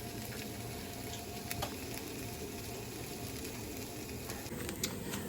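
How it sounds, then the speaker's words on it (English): Onions sautéing in a pan on a stovetop while making tater tot casserole, a steady soft sizzle running continuously with no voices. "as the onions are sauteing"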